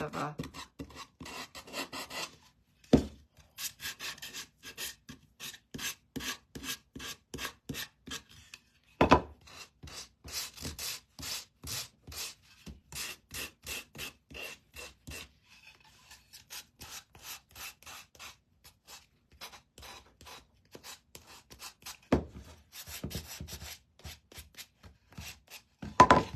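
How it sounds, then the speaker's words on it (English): Hand sanding of a small wooden angel figure from a craft kit, close and steady, with rhythmic rasping strokes in bursts separated by short pauses and a few sharper knocks. "I'm gonna sand her face kind of a little bit"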